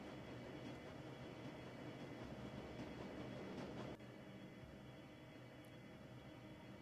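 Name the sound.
train speeding along rails, from video game Shadowrun Dragonfall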